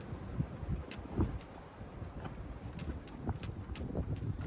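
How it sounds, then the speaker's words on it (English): Wind gusts steadily across an open lakeside carp fishing spot, a broad, rushing roar with buffeting on the microphone that rises and falls throughout, with no voices. "Wind's picked up again."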